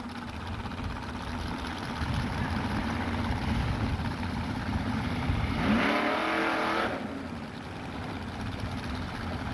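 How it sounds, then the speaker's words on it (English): A drag racing car roars past at a race track, a steady loud engine drone rising into a brief sweeping whoosh as it passes, then settling back. "The dragster coming in on a 925 down, so Pete Phillips"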